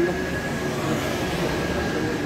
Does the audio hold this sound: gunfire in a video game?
no